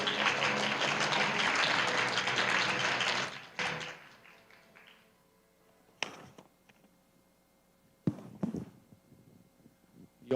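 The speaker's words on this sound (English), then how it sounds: "Please give him a warm round of applause." Applause from the audience at a parliamentary forum closing ceremony, full and loud for a few seconds before cutting off into a quiet room with occasional thumps and knocks.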